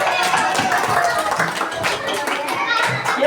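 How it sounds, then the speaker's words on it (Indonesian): Schoolchildren in a classroom clap for a student group, an uneven close patter of small hands mixed with overlapping children's chatter and voices. "Tepuk tangan dulu untuk kelompok belakang."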